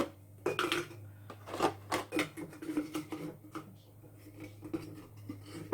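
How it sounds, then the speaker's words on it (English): Plastic Easter eggs tossed into a painted Dollar Tree basket, a loose run of light clattering taps and rattles, close and quiet, with no talking. "So I'm just going to throw my eggs in there."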